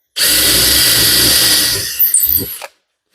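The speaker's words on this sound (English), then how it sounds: "You don't want to drill in the metal and be too big right off the start" A power drill bores a hole in metal on a 1935 chopped hotrod, running loud and steady for about two seconds, then slowing and catching with a few rough bursts before stopping abruptly.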